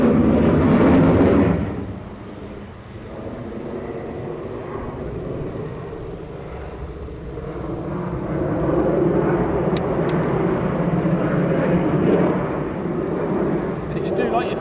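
Military fighter jet, an F-15 or F-35 from RAF Lakenheath, roaring overhead at night: a loud broadband rumble that peaks early, dips, then swells again as it turns away, with brief talk over it.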